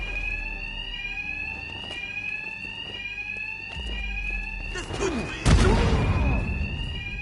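An alarm rings in Batman: Arkham Knight, a loud continuous electronic tone with steady pulsing, while heavy impacts and crashes from a fight burst in toward the end.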